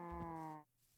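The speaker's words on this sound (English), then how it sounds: "So I swooped down and politely asked these cows if I could eat them." A cow in the video game Minecraft gives a single short, low, droning moo that cuts off abruptly, followed by near silence.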